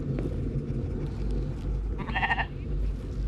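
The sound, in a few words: goat bleating in a video game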